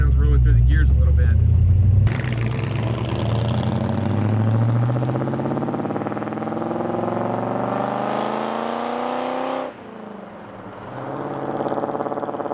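A 1958 Plymouth barn-find car engine revs up through the gears, pitch climbing with each pull before dropping at a shift, loud and close inside the car.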